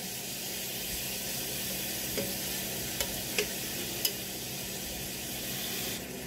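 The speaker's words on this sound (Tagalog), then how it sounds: "at ating i-stir fry lang siya sa ating butter" Marinated pork stir-fried in butter in a pan, a steady moderate sizzle with a few sharp clicks of a utensil scraping and stirring.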